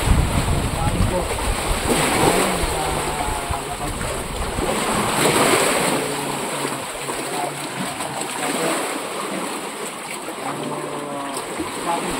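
Steady wash of ocean waves and surf with wind buffeting the microphone, continuous and fairly loud throughout.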